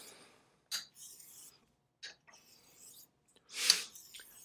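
A straight razor is honed on a sharpening stone in brief, dry rasping strokes, a few separate passes with pauses between them and one louder, longer stroke near the end, heard up close and alone.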